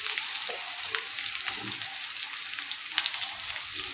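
Green chili paste sizzles steadily in a hot pan with garlic and curry leaves for a healthy horse gram palya, a dense crackling hiss with small pops and a few stirring scrapes, no voices.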